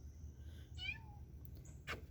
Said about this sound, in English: Oh, the cat's at the door.